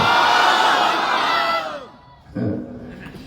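A crowd at an Islamic sermon roars a loud collective takbir shout of Allahu Akbar, swelling then fading, followed by a short burst of a voice.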